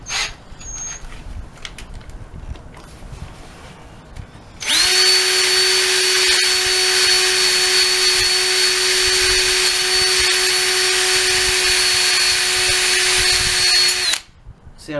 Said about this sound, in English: I'm going to try to use it to sand some of this paint off.